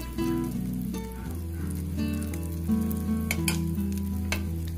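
Oat pizza batter cooks in a frying pan over medium heat, giving a steady close sizzle with soft crackles and pops throughout, with no voices over it.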